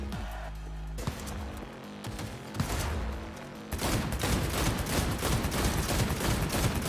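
Video-game gunfire, mostly pistol, bursts out in scattered shots that build into a dense, continuous volley of rapid fire for the last few seconds, loud and close with no talking.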